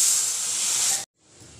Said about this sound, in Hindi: प्रेशर कुकर का सीटी अच्छी तरीके से रिलीज हो चुका है